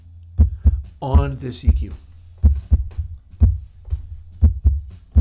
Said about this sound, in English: make the heartbeat sound out of it